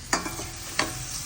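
Two quick spatula scrapes stir chopped onion pieces frying in a pan for mushroom gravy, over a soft continuous sizzle.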